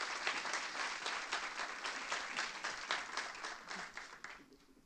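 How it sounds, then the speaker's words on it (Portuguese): Steady applause from an audience at a university entrepreneurship event, a dense patter of many hands clapping that fades out toward the end. "Aplausos"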